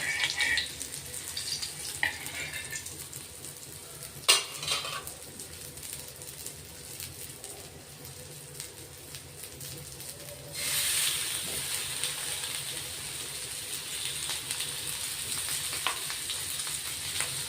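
Surmai fish slices frying uncovered in a pan, one pushed aside as another is added: a low continuous sizzle with a few sharp knocks, then the frying swells louder and brighter partway through.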